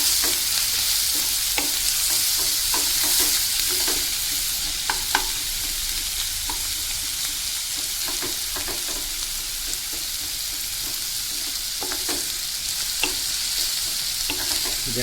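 Ginger-garlic paste hits onions frying in a pan over a medium gas flame, giving a continuous sizzle with frequent soft scrapes and taps from stirring.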